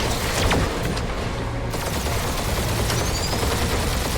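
Dense sustained gunfire barrage during a battle in the Guardians of the Galaxy video game, a loud continuous wall of rapid shots and blasts filling the whole stretch with no break, no talk.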